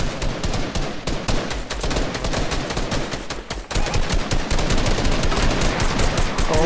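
Video game gunfire rattles almost nonstop in loud rapid bursts, like automatic weapons in a shooter, with a brief dip before the firing resumes even heavier.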